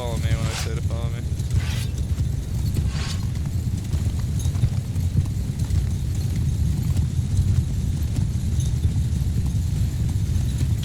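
Massed horse cavalry, including horse archers, gallops in Mount & Blade 2 Bannerlord: a dense, unbroken rumble of many hooves, loud and steady throughout, with a few clattering accents near the start.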